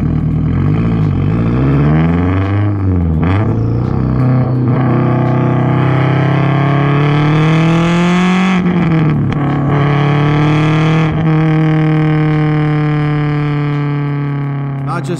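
A 2004 Subaru WRX STI's exhaust roars up close, the engine note rising and falling through several revs before settling into a steady, loud drone.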